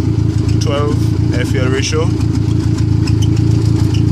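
A turbocharged Honda car engine with Speeduino fuel injection idles steadily with a low, even rumble while someone talks over it.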